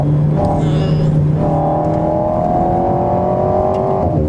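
An Alpine A110 Légende sports car accelerating hard, its engine droning loud and close from inside the cabin with a rising, steady whine and a brief shift partway through.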